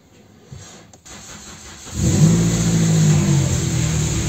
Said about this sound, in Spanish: lo primero de todo es arrancar el motor